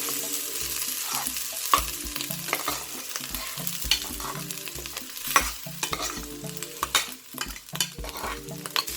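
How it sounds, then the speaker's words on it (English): A spoon stirs fried rice with curry powder, vegetables and prawns in a hot pan, scraping and clinking continuously over a steady sizzle, up close and without speech. "So right now I'm just mixing everything together until it's all blended and it shall be ready."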